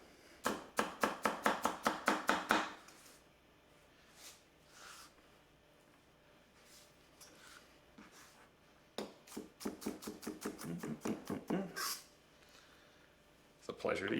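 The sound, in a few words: chopping ingredients with a Konosuke Honyaki wa-gyuto knife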